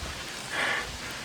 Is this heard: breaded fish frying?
no